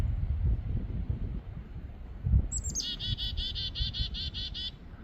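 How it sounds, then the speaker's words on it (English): A bird chirps in a fast, repeated series of high, clear notes during a winter snow storm. The calls sit over rumbling wind and low background noise. "I don't know what kind of bird that is."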